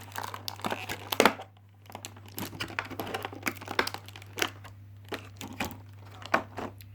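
A gift package being opened by hand, with crisp crinkling and tearing of plastic and paper wrapping in quick irregular bursts, close and fairly loud, with no talk.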